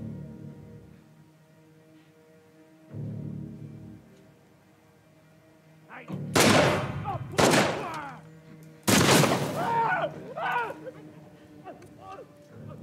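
Gunfire in the video game The Last of Us Part 2, with two sharp loud bursts and a later cluster of shots standing out over quieter background ambience, mixed with a voice talking.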